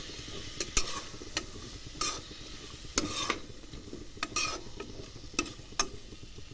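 Masala rice ingredients with potato sautéed in a pan, giving a steady low sizzle broken by repeated sharp scraping clicks of a spoon against the metal, close by and with no talking.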